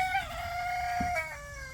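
Chickens in a backyard homestead coop cluck and crow close by, a steady run of rising and falling calls over a low background rumble.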